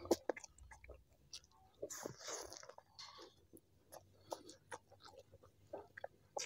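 Close, quiet chewing of meat during a meal, with soft wet bites and crunches in an uneven rhythm and no talk.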